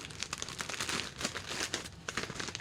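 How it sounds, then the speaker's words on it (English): A filament package pushed into a mailing envelope, close, continuous crinkling and rustling of paper and plastic with sharp crackles throughout. "So this is going in this envelope."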